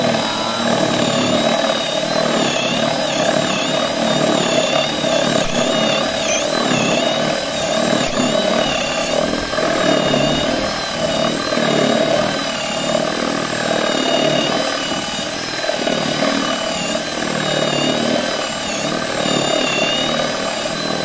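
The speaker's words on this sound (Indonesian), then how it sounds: "Bor terkuat di bumi 200 ribuan" An APR AP12+ cordless battery drill runs in one steady, loud, high motor whine that holds without pause from start to finish.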